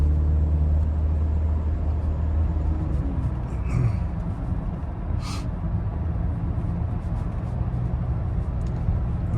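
Inside a 2009 Toyota Camry LE with a 4-cylinder engine driving on a road, a steady low road rumble and engine drone fill the cabin for the whole stretch, and a couple of faint clicks rise briefly above it.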